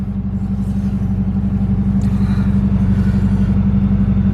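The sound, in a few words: car driving on a California road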